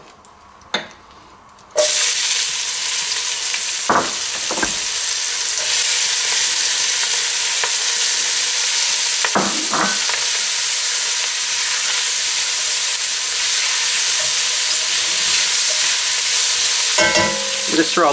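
Onion and bacon hit a hot pan that has just browned lamb shanks, breaking into a loud, steady sizzle with occasional stirring scrapes, close up and without talk.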